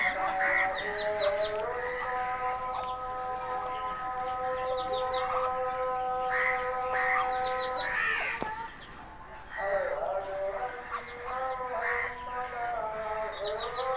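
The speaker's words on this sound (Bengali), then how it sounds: "এগুলো হলো চীনা হাঁস" Chinese ducks call repeatedly nearby on a farm, a mix of honking and clucking cries over a steady background of other birds.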